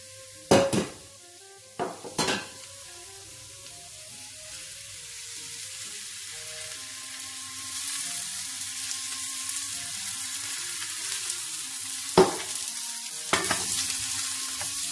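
Mushrooms sautéing in oil in a pot, a steady sizzle and crackle running throughout, with a few sharp clanks of a lid and utensils at the start and again near the end.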